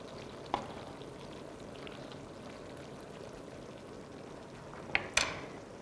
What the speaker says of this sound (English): So you just wanna keep an eye on it and keep stirring, making sure the cheese is getting in with the heat and it's starting to melt.